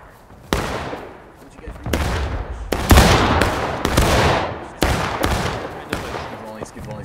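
Musket volleys in the Civil War game War of Rights: about half a dozen sharp, loud cracking shots at irregular gaps, some single and some clustered, each trailing off into a rumbling echo.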